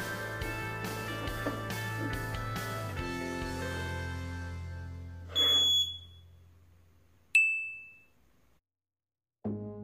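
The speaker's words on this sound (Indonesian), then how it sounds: "modul momentary menghidupkan buzzer sesaat" Electronic door alarm buzzer tones sound near the close: a short broadband burst, then a sharp high beep that decays, followed by a brief low buzz after a pause.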